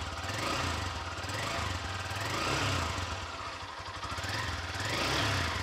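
A Lifan KPR200 motorcycle engine runs steadily at idle with a rapid, even mechanical knocking and whirring of the piston, slightly rising and falling, heard up close with no talk.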